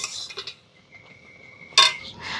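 A raw-mango sandesh mixture is stirred slowly in a pan. A few distinct metallic clinks and scrapes of the utensil stand out against near silence, with a sharper knock toward the end.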